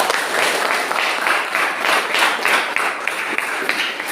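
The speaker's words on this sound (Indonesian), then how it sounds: "silakan beri aplaus untuk teman kita" Applause from classmates after a group presentation in a classroom: steady, dense clapping from a small crowd fills the whole stretch, moderately loud and close, with no talk over it.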